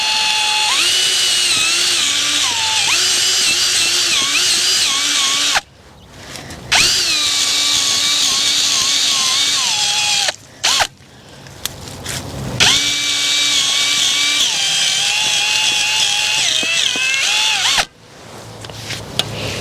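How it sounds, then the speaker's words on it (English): A power drill boring into garden soil whines steadily at high speed, pausing briefly a few times before starting again, loud and close with no talking. "You can really tell the difference in the quality and the fluffiness of the soil when you're drilling in different areas of your garden"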